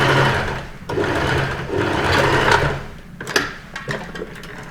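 A sewing machine stitches a shirt yoke seam with close, loud mechanical whirring. It runs in several continuous stretches with short pauses, then ends in a few stop-start bursts.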